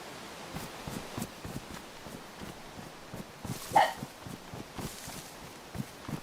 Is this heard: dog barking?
yes